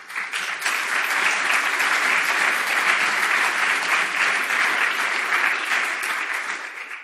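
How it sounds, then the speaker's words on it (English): Loud, sustained audience applause in a lecture hall, dense clapping from a large crowd rising quickly and holding steady for about seven seconds before tapering off. "I would say give yourself a big applause."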